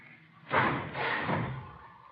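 A garage door slams shut with a heavy, muffled thud at close range, followed by a lingering rumble as it settles, with no voices over it.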